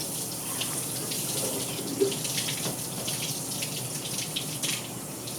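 Water runs steadily from a tap or shower hose, rinsing through someone's hair as they wash, a close, continuous splashing hiss with no talk over it.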